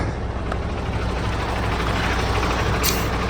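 A MAN dump truck converted from a tractor unit runs its hydraulic pump to raise the tipper body, a loud, dense, steady mechanical roar close by with a brief hiss near the end.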